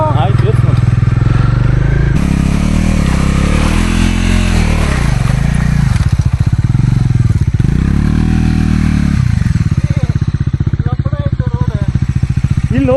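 A Bajaj Dominar 400 motorcycle, just serviced at 2000 km, rides in first gear on a rough road with a loud, close engine drone that dips and rises as the throttle changes, while voices talk over it.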